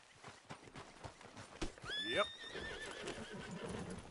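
Horse in a video game whinnies loudly once partway through, a rising and falling neigh over steady clip-clopping hooves, with a brief spoken word from a man near the start.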